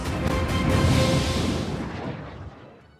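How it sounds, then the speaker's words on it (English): A big explosion from a Doctor Who trailer booms in one deep, broad blast that swells and then rumbles away over a few seconds. "that's followed by Yaz running from an explosion"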